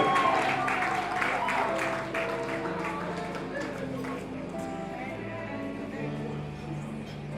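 Applause at an awards dinner for a Customer of the Year winner, clapping strongest at first, then fading under music and a voice.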